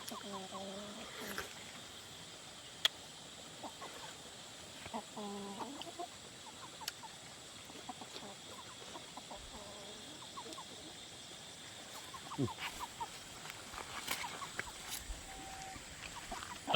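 Chickens cluck and call now and then on a hill farm, scattered short calls near and farther off over quiet outdoor background hum, with some faint voices.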